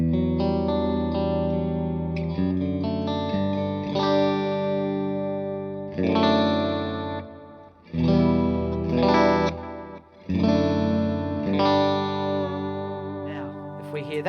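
Electric guitar chords played close and loud, each strum trailing into echoing repeats and a spacious reverb tail that blurs the gaps between them.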